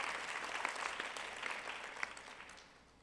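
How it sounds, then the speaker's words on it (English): An audience at a hospital residency graduation and award ceremony applauds, a dense wash of clapping from many hands that trails off toward the end. "Round of applause."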